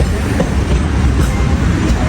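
A train rumbles steadily close by, a continuous low roar of wheels and carriage noise with no pauses.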